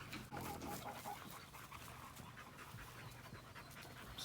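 Quick, rhythmic panting from a young American Bulldog pup close by, steady throughout, with faint outdoor noise behind it.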